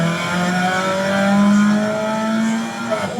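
A Peugeot 106 car running a 106 Rallye Phase 2 engine revs up close and loud, its engine note rising and holding steadily high for about three seconds.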